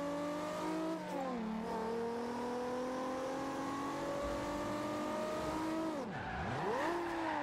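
Car engine from Forza Horizon 2 on Xbox One, revving loud and steady with gear shifts, a sharp drop and rise near the end as the motor winds down and surges again, with no voices.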